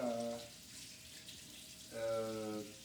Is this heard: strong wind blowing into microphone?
no